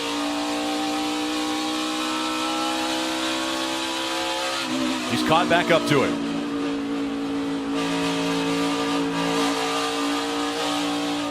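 NASCAR race cars racing late in a race, a steady loud engine drone with harmonic whine and a brief surge of another car passing close, under constant broadcast commentary.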